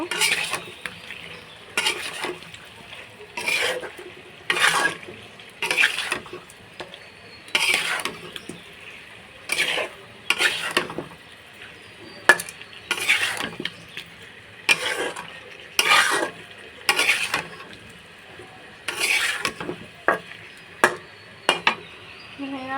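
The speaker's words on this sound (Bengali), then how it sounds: "টমেটোগুলো দিয়ে দিলাম বন্ধুরা। আর একটু ভালোভাবে নাড়াচাড়া দিয়ে নেব।" Chopped tomatoes frying in a pan, stirred in repeated bursts of scraping and clattering utensil strokes against the pan, separated by brief pauses with a soft sizzle beneath.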